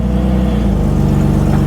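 A 2002 Lexus IS300 with a swapped 2JZ engine and aftermarket exhaust revs up loud and close, a steady drone climbing into a pulsing rumble with no talking.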